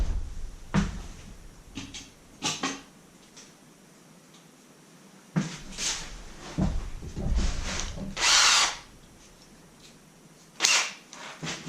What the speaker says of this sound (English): pre-drill it, I think.